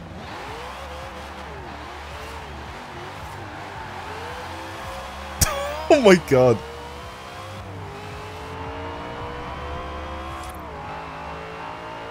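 The Fast and Furious Dodge Charger in Forza Horizon 4, rated at 900 horsepower, rumbles in a steady engine drone with one brief sharp rev burst midway. A person talks over it.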